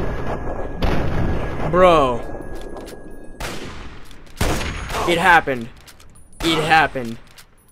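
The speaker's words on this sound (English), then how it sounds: "We were up in his face and we missed 3 headshots with a sniper" Sniper rifle shots in Fallout 3, a few sharp, loud cracks spaced seconds apart with ringing tails, heard between bursts of excited talk.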